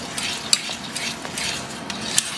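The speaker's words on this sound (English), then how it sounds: "you want to stir that in until it's all nice, till it goes back nice and smooth" A spoon stirring Parmesan cheese into a creamy sauce in a pan off the heat, soft scraping and swirling strokes with a couple of light metallic taps against the pan, close and without speech.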